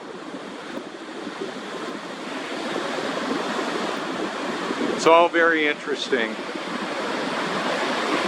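Big ocean waves breaking on the shore, a steady washing roar with wind noise on the microphone, and someone briefly speaking over it partway through.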